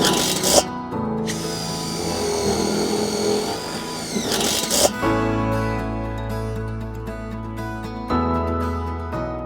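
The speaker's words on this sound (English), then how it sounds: "Now we'll come back and do the second screw on the bottom." A power drill drives screws into the wooden baseboard of a Haven high tunnel, with short bursts of whirring motor separated by pauses and a clunk as the driver changes pitch, close and loud with no talk.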